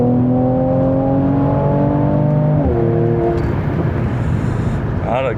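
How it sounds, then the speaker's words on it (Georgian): A Mercedes-AMG C43 accelerates hard on the autobahn, its engine note rising steadily through the gears with a clear shift partway through, loud and continuous from inside the car. "გიჟი აჩქარება აქ"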